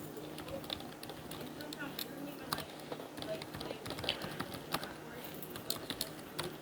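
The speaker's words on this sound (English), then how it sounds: "Can't talk and type at the same time." Fast typing on a computer keyboard, a dense patter of light clicks running throughout at moderate volume, with a voice talking over parts of it.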